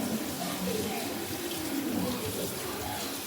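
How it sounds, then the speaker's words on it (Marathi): Cold water runs steadily into a pot of drained Maggi noodles, a continuous close splashing pour lasting throughout. "ह्याच्यात आपण आता थंड टाकायचो"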